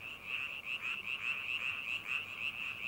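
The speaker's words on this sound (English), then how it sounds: "The largest males have the loudest croaks, and they have the best chance of mating." Frogs in a swampy forest of Ussuriland give a close chorus of rapid, rhythmic croaks that pulse steadily without pause, with the large males calling loudest.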